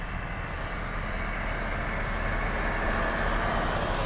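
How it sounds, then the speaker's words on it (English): An older, noisy dump truck drives past on a beach road in North Naples, Florida, its deep engine rumble swelling steadily and growing slightly louder as it nears, continuous and unaccompanied by speech. "Another Mr. Dump Truck."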